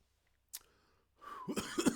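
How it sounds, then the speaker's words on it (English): A single sharp cough, then a short pause and a rough burst of coughing and throat clearing, close and fairly loud. "Oh, oh no. I'm coughing."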